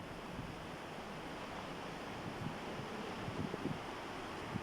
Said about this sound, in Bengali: এত পরিমাণ বাতাস আসছে